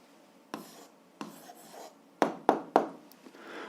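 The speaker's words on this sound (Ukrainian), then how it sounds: "Записуємо відповідь, пишемо відповідь." Pen strokes on paper while a maths answer for a seventh-grade algebra exercise is written out by hand, a few soft scratches followed by several sharper taps and strokes, close and quiet with no talking.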